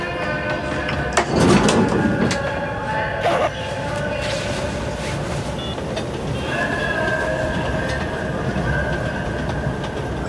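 A train carriage rumbles steadily with a constant roar, faint clanks and a brief louder clatter, heard from inside the car.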